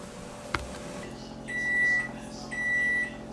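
A kitchen cooking timer sounds two short bursts of high, clear beeps about a second apart, signalling that a stuffed turducken roast is done. A low background hum and a soft knock are also audible.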